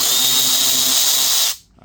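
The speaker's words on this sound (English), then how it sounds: "I definitely could use my electric drill" An electric drill whines steadily while backing out bumper fasteners on a Dodge Durango, loud and close, then cuts off abruptly, leaving near silence.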